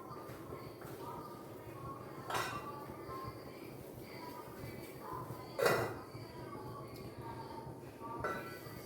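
A metal lid goes onto a boiling pot of masala tea, with a few distinct clinks over a steady background and someone talking throughout.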